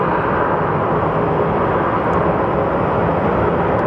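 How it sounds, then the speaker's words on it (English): A Boeing 737 MAX takes off at Phoenix Sky Harbor Airport with a loud, steady broadband jet roar that holds constant throughout, and no voices are heard. "It is a Boeing 737 MAX."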